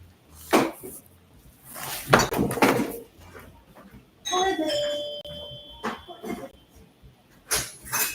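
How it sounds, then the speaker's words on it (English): A doorbell chimes with a ringing ding-dong tone, rising clearly between bursts of nearby talking and some clattering. "Somebody's ringing my bell."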